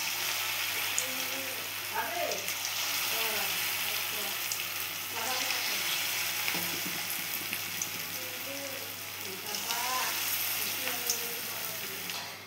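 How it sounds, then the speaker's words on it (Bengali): Snake gourd paste fritters fry in hot oil with a steady, moderate crackling sizzle that runs the whole stretch, while faint voices murmur in the background now and then. "গরম তেলে আমি এবারে চিচিঙ্গাগুলোর পেস্ট আমি বড়ার মতো করে দিচ্ছি।"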